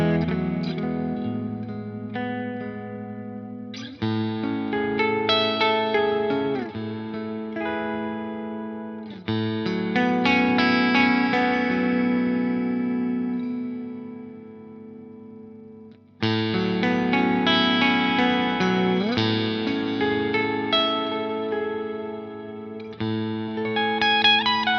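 Electric guitar through a Laney Secret Path shimmer reverb pedal, chords ringing into bright, octave-up shimmering washes that swell and sustain, played alone in phrases with brief decays between strums.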